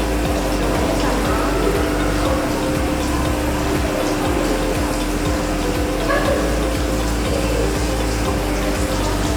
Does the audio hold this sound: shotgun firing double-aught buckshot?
no